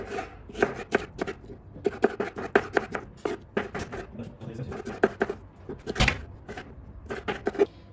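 Repeated crisp knife strikes on a cutting board, dicing tomatoes into cubes in quick uneven bursts, close by with no talking.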